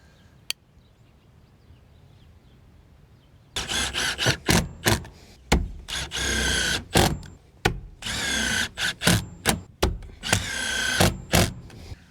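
A roof anchor for solar panel racking is screwed down onto a roof with a power drill: after a quiet start, a run of loud, close drill bursts of varying length whir and stop repeatedly.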